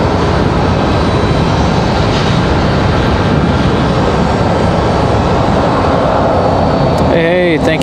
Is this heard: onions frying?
no